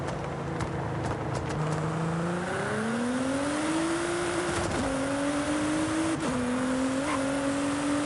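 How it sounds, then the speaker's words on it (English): A car engine in a Forza racing game, driven in manual, revs steadily and climbs through gears with audible shift dips, a smooth loud drone held throughout with no talk. "Holy crap, this car sounds nice."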